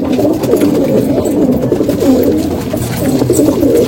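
A group of Punjabi Malwai pigeons keeps up a steady, murmuring cooing nearby, with several birds' low calls blending into one continuous throaty drone.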